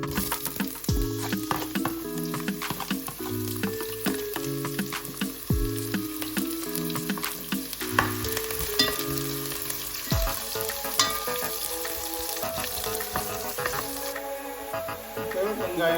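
Onions and fennel seeds sizzle steadily in a pan for home-cooked fried rice and chicken curry, with a spoon scraping and stirring at intervals, close and loud.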